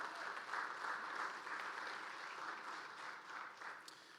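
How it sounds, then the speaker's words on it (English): An audience claps together in sustained, even applause, fairly faint and diffuse as if heard from a distance, for a few seconds. "And that's something worth applauding for."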